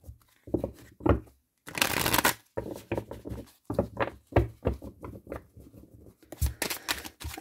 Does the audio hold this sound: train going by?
no